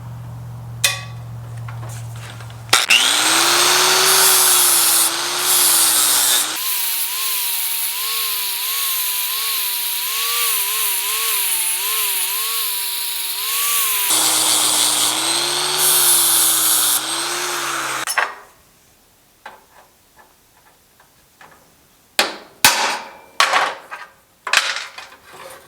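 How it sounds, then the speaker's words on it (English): A flap disc on an angle grinder grinds off a small riveted area on a GTO restomod during a power window modification, a loud, steady whining roar that rises and falls in pitch over about fifteen seconds before cutting off, followed by scattered clanks. "We're going to grind this little riveted area off right here with a flapper disc so we can get these installed."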